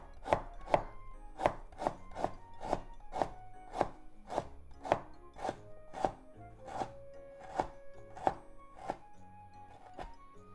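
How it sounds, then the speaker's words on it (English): A knife slices washed, skin-on ginger on a cutting board in steady, evenly spaced taps, about two per second, close and clear with no talking. "Let's mince it. Into slices first."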